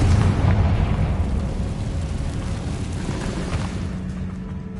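A Confringo spell blast in a Harry Potter video game, a deep rumbling boom that swells at the start and slowly fades over a few seconds.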